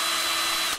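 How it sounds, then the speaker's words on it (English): A power drill whirs at a steady high pitch, close and loud, running continuously for under a second before cutting off abruptly. "Go ahead and put down your power tool"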